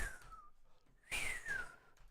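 A person tries to whistle, producing a thin, faint tone that slides downward in pitch, breaking off and then starting again in a second short attempt.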